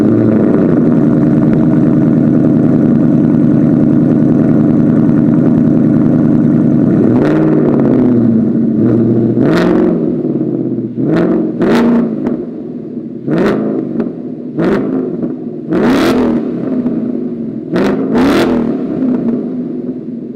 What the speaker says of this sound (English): let me go ahead and do a quick little exhaust clip for you guys, just so you know what the AWE Touring catback exhaust system actually sounds like